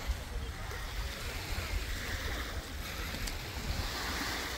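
Steady wash of surf on a beach in the Florida Keys, a continuous broadband roar with gentle swells and some wind buffeting the microphone, with no clear speech.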